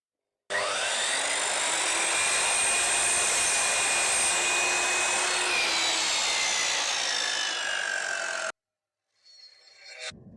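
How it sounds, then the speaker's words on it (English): A miter saw cuts through a ceiling profile strip with a loud, high whine that holds for about eight seconds, its pitch drifting a little as the blade passes through, then stops, followed by a brief rattle as it winds down. "you can immediately cut it on the miter saw and then join these two profiles together"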